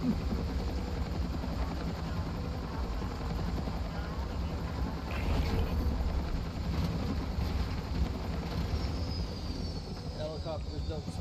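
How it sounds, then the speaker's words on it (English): Dense, steady engine and rotor drone of a helicopter in a shooter video game runs loud and unbroken throughout, with speech faintly mixed into the roar. "Helicopters don't spawn there naturally."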